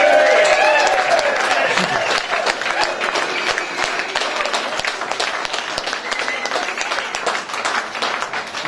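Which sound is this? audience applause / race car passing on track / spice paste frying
audience applause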